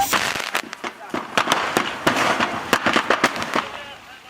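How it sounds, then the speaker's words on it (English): Fireworks bursting inside a burning house during a large residential fire in Massachusetts, a rapid irregular string of sharp cracks and pops, loud and close, with a voice cutting in over them. "A blaze broke out, spreading through rooms and setting off fireworks."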